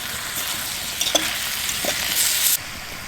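Garlic frying in a pan on a camp stove, a steady close hiss and crackle of sizzling oil with a few brief clinks of stirring, no voices.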